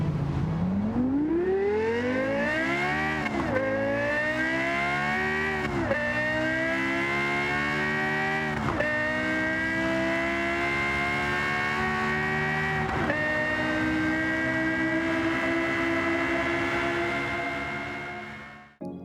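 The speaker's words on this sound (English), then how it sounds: "if you have not heard the car in game, take a second to appreciate it now" A high-revving Lexus LFA engine in Gran Turismo 7 screams upward through the gears, rising pitch with sharp drops at each shift, loud and sustained, no talking.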